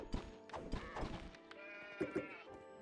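Sheep bleat in the video game Craftopia, a few short nasal calls mixed with game thuds and background music, fairly close.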